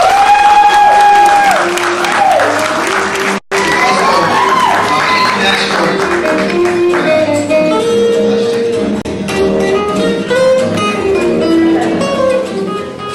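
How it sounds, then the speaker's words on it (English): A live event audience applauds and cheers to welcome a guest speaker, a loud continuous clapping wash mixed with crowd noise, voices and background music, with one brief dropout partway through. "But y'all give a round of applause for Mr."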